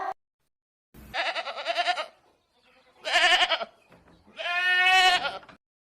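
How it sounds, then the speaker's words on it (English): A goat bleats three times, loud and close, each call long and wavering, with short silent gaps between them. "G for goat."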